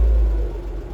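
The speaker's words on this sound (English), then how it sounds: "Yeah, that's a lifter." BMW E36 convertible engine idling with a slight top-end lifter tick, a steady low rumble that eases a little partway through, close by and without talk.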